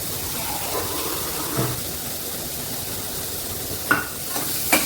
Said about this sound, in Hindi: अब डालते हैं इसमें टमाटर, थोड़ा सा पानी डाल देते हैं।